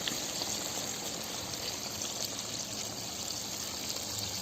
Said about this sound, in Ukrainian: додаємо в казан